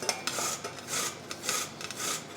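Cooked potatoes rasped against a metal cheese grater in a restaurant kitchen for rösti, a run of bright scraping strokes in an uneven rhythm, close and fairly quiet with no talking.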